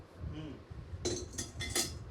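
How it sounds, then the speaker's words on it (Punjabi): Brass household vessels, including a rimmed brass drinking glass, clinking together nearby, a few bright metallic clanks bunched near the end after a quiet stretch of faint background. "ਇਹ ਪਿੱਤਲ ਦੇ ਭਾਂਡੇ ਨੇ ਜੀ"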